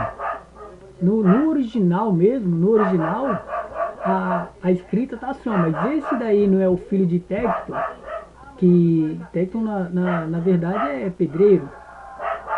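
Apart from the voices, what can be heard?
neighbours' dogs barking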